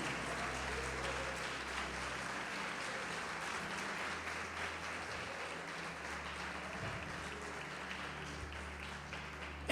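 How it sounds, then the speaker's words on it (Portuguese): Sustained applause from a large church congregation, steady and dense throughout, with a faint low hum underneath and no talking. "Quem pode aplaudir o Senhor Jesus?"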